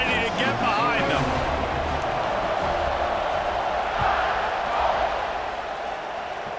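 Stadium crowd noise at kickoff in the EA Sports College Football 26 video game, a steady loud roar with swelling cheers throughout, with commentary voices over it.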